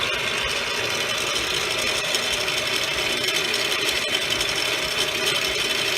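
A steady, continuous grinding whir of a drill working into a metal treadmill pulley during drilling and tapping, loud and unbroken throughout, with a faint rubbing texture and no voices.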